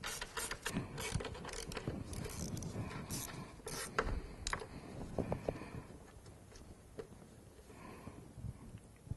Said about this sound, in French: avec un petit cliquet et une douille de 10, je vais dévisser